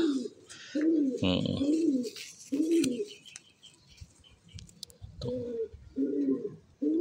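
Racing pigeons at a tag-team race in Calauag, Quezon, coo in repeated soft, throaty phrases close by, with brief chirps and rustling between the calls.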